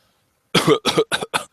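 A person coughs four times in quick succession, close and loud, after a moment of silence, each cough sharp and roughly evenly spaced.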